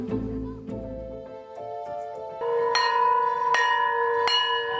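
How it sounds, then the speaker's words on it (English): A school bell rings in a run of bright metallic strikes whose tones ring on and overlap. It grows louder partway through, with no voices heard. "When the school bell rang"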